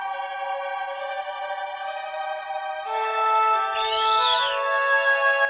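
A sustained, layered tonal dragon cry from a Panzer Dragoon game, held steady, then swelling louder with a rising-and-falling high wail near the end, like a synthesized creature call.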